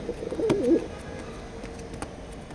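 Grizzle pigeons at a loft coo in a short soft burble near the start, then fall mostly quiet over a faint background hiss with a few small clicks.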